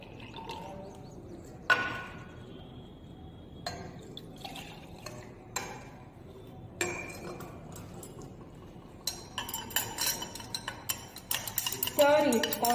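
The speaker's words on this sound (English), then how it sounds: "Stir it constantly and mix well." Chloroform being stirred into purified water in a vessel, with spoon-on-glass clinks and scraping strokes coming in irregular bursts, growing busier and denser toward the end; close and moderately loud, with no talk.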